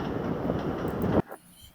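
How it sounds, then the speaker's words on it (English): An R160 subway car on the J line roars past in Cypress Hills, a loud, dense rumble that cuts off abruptly as the train clears, leaving a quieter tail. "R160 J train."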